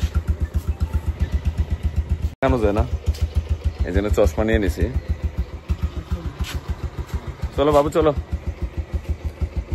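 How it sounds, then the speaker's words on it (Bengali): A motorcycle engine idles with a rapid, steady putter throughout, close and loud, while people talk over it. "বাবুর বাইক দিয়ে যাবো"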